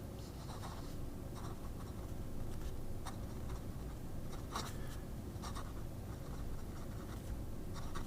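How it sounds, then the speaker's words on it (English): A Scribo Flow Armonia fountain pen scratches across paper in quiet, close strokes, soft irregular scribbles and ticks of the nib continuing steadily with no voices. "there's that scribing sound and feel that, you're writing with a fountain pen"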